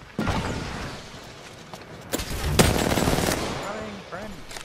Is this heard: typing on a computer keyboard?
no